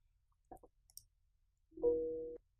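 A single mouse click on the Open button in PuTTY, a couple of faint close clicks followed by a short electronic tone, in a quiet room.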